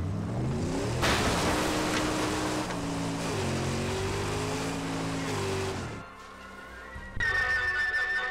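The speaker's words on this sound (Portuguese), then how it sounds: "que carro barulhento" A noisy car engine in the Mad Max video game drones loud and close, its pitch climbing and dropping in steps as it shifts gears, then settling into a rougher, buzzing idle.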